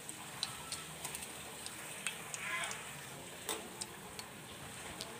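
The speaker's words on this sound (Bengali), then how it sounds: "ওই তেলের মধ্যে আমি এখানে দিয়ে দিচ্ছি দুটো লবঙ্গ এবং দুটো এলাচ এবং দুটো দারচিনি এবং সাদা জিরে।" Cloves, cardamom, cinnamon and white cumin frying in hot oil, giving a quiet, steady sizzle scattered with small crackles and pops, close but faint, with no talk.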